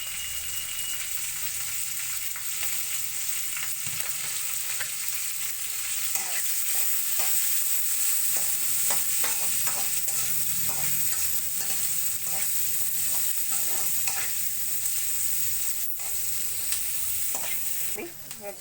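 Onions and green chillies frying in oil for jeera rice, with a steady, loud sizzle running throughout and repeated scraping stirs of a spatula against the pan, and no talking.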